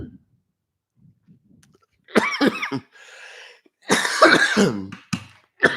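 A few harsh, broken coughs in short bursts, close by, separated by quiet gaps, with a throat-clearing rasp near the end.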